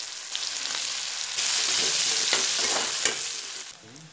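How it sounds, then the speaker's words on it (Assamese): Chopped onion hits hot oil already holding cumin seeds and a chili, bursting into a loud, close sizzle that swells after a moment, holds steady with a few scraping stirs, then eases at the end. "এতিয়া কাটি ৰখা পিঁয়াজ দিছোঁ"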